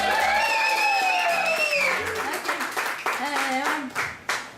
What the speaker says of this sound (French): je vous demanderai à tous d'applaudir et de faire du bruit pour Madame Mylène Lavoie!